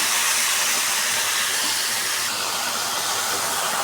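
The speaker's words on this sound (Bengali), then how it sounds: "এই তেলের মধ্যে ভালো করে ভাজবো আমি মাছটাকে।" Fish, okra, potato and tomato fry together in hot oil, giving a loud, steady, unbroken sizzle and hiss that fills the whole stretch with only slight swells.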